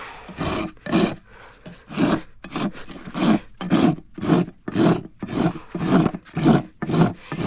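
The rough side of a rasp is drawn across a horse's hoof during trimming, giving loud, close, rhythmic grating strokes. About eleven long rasping passes repeat at a steady pace of roughly one per second, with no talk.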